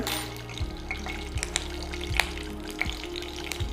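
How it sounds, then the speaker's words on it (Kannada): Hot fat sizzles steadily while sharp pops and crackles burst out irregularly, close by, like seeds spluttering in a pan. "ಸಾಸಿವೆ ಸಿಡಿತಿದ್ದಂಗೆ"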